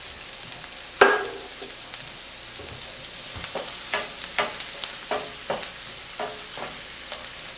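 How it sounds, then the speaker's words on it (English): Finely cut yellow squash lands in a hot pan of rice and vegetables with one sharp sizzling hit, followed by steady frying and a series of scraping stirs, with no talking. "add this finely cut up yellow squash"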